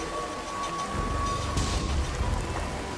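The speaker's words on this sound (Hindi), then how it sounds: "ये बारिश तो रुकने का नाम ही नहीं ले रही है।" Heavy rain pours down on a dark night, a dense, steady hiss of drops with a low rumbling undertone swelling midway through the short stretch.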